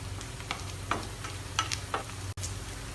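Sliced onions crisping in a pan for fried onion garnish, with soft continuous frying crackle and scattered stirring scrapes and clicks, close and quiet.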